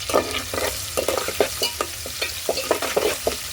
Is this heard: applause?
no